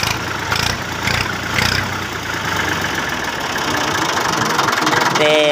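A 2014 model tractor's engine idles close by with a steady, rough low rumble and a rhythmic knock running through the whole stretch, with no voices heard.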